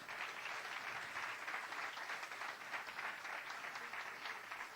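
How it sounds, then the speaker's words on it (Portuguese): A church congregation applauds during a service, a steady wash of many hands clapping at moderate, somewhat distant volume for a few seconds. "Vamos aplaudir a Jesus."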